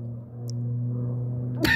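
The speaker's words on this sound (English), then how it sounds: "Sorry about the sneezing." A single short, sharp sneeze bursts out near the end, after a steady low engine-like hum aboard a crop-dusting flight.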